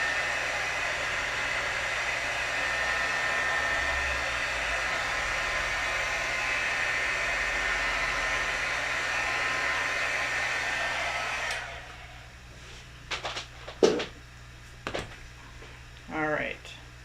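A heat tool blowing on a watercolor card, a loud steady whooshing roar running for about twelve seconds before cutting off, followed by a few handling knocks and brief voice sounds.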